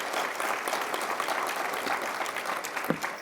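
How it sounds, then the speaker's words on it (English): Sustained audience applause fills a room at a chamber of commerce annual awards dinner, steady and dense throughout, with a brief louder clap standing out near the end. "Let's give him a round of applause"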